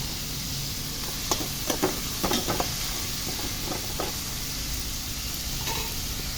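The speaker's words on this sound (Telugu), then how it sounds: "ఇప్పుడు ఉల్లిపాయ ముక్కలు వేస్తాను." Onion pieces fry in oil in a pan for a masala drumstick curry, making a steady close sizzle with a few light clinks and stirring scrapes scattered through it.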